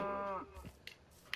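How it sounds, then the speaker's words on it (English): Cows in the Minecraft video game give one low, drawn-out moo that fades out, followed by a few faint clicks and soft ticks in otherwise quiet game audio. "Creepy sounds, those are actually just cows"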